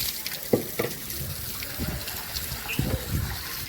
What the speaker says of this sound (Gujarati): 2-3 પાણીથી ધોઈ નાખીએ એટલે આગળ ફર્સ્ટ ક્લાસ થઈ જાય.